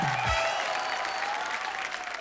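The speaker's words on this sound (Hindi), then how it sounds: "जोरदार तालियां हो जाए" Studio audience on a Hindi TV game show applauds loudly and steadily throughout, a dense sustained wash of clapping with no talk over it.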